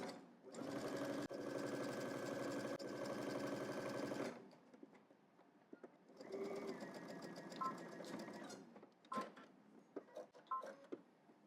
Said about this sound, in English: I went ahead and stitched the side seam